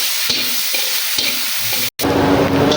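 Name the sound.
frying onions with bay leaves in oil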